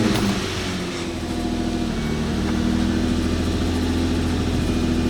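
An Infiniti G35 cold start: the engine turns over and settles into a steady, rumbling idle, loud and close, running evenly for several seconds.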